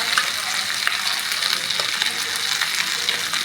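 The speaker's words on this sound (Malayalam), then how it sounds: "പതുക്കൊന്ന് പൊരിച്ചെടുക്കുന്നുള്ളൂ കേട്ടോ നാടൻ കോഴി ഇന്ന് ഈ ഒരു രീതി മസാലയിലാണ്" Country chicken, a mature bird already pressure-cooked, fries in masala in a pan with a steady, close, crackling sizzle that holds evenly throughout, with no voices.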